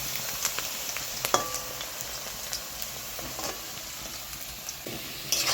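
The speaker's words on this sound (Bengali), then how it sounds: "আলুগুলো লাল লাল করে ভেজে নিব" Potatoes fry in oil in a kadai, a steady close sizzle with occasional crackles and faint clinks of stirring, moderately quiet and without speech.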